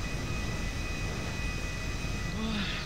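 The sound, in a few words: airplane engine in video game GTA Online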